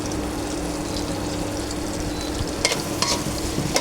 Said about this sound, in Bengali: তেল, পেঁয়াজ আর রসুন এখন ভাজা হইতেছে।